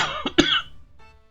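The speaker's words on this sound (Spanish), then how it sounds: "Ustedes habrán visto que estoy tosiendo" A single tired cough from a man with a hoarse voice, close and fairly loud, with a short rough burst and a second sharper hack, then quiet room tone.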